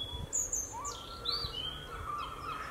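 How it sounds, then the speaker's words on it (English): Birdsong outdoors in spring woodland near Whitstable, with several high chirping and whistling calls scattered throughout, including a seagull; the calls are moderately close and clear against a quiet background. "Just about to say that and then some seagull chirps in."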